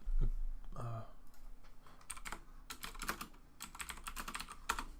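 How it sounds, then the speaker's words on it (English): Someone types on a mechanical keyboard, producing quick, irregular clacks at close range over a faint background, with a brief low thump near the beginning. "Mechanical keyboard be like."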